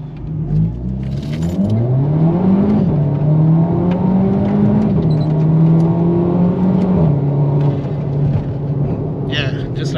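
A Volkswagen Scirocco 1.4 TSI with Revo Stage 1 tune accelerates at full throttle in manual mode, its engine note climbing through several rising sweeps with shift breaks, loud and close from inside the cabin, with some jingling and a voice briefly heard.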